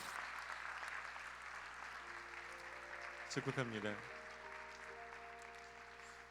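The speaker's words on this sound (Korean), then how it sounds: "여러분 박수로 축복해 주시기를 바랍니다" A church congregation at a youth worship service applauds softly and at a distance, under sustained keyboard tones. A voice speaks briefly partway through.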